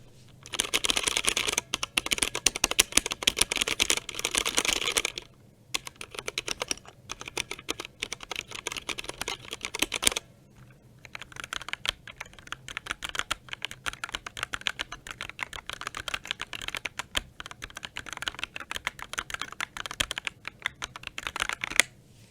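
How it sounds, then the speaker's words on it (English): Rapid clacking keystrokes on a Drop Alt 65% mechanical keyboard fitted with linear switches, close and dense, in bursts with a brief pause around the middle, no talking. "let's do a little sound test"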